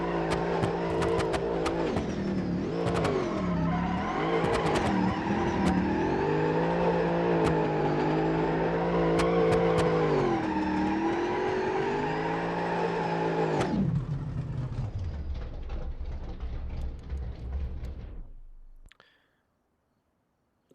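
A project car's engine revs hard in first gear in the BeamNG.Drive driving game, a loud sustained whine that rises and dips as it hits the rev limit, then drops off and fades to silence near the end.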